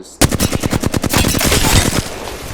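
Sustained automatic gunfire from R-301 and Flatline rifles in Apex Legends, a rapid rhythmic burst of closely spaced loud shots running continuously for about two seconds after a brief quiet start, with no talk.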